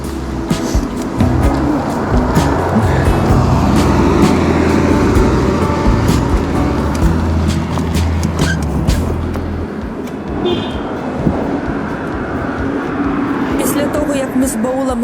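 Highway traffic heard from a bicycle on the road from the Trakhtemyriv peninsula toward Rzhyshchiv, Ukraine: a loud, steady roar of vehicles passing close by fills the whole stretch, with rumbling low engine noise that eases slightly near the end.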